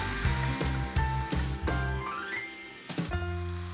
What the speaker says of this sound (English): I'll cook this for about 3 to 4 minutes on a medium temperature, just so we can release all the oils in the chorizo sausage